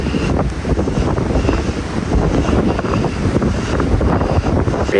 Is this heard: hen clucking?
no